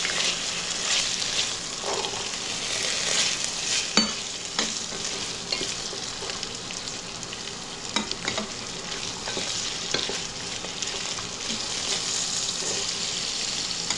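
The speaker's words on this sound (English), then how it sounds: "And let's saute them for 2 minutes" Potato and mixed vegetables sautéing in a pan over medium-low heat give a steady, close sizzle, broken by occasional clinks and scrapes of stirring throughout.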